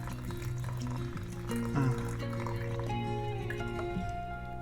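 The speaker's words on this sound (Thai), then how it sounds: "เทน้ำลงไปเลยครับใช้น้ำอุณหภูมิห้องปกติเลยครับ" Room-temperature water poured into a self-heating cup, a quiet filling gurgle whose pitch rises steadily as the vessel fills.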